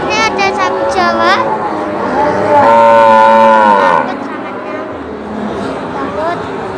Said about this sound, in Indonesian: Dan di sini ada sapi Jawa.